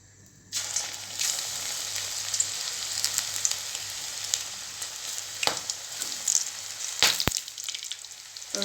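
Okra (ladies finger) drops into hot oil and sets off a sudden, steady crackling sizzle that continues throughout, broken by a few louder pops and clicks.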